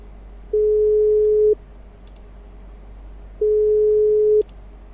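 Outgoing phone call ringback tone: two steady, moderately loud single-pitch rings, each about a second long, separated by a few seconds of quiet line hiss.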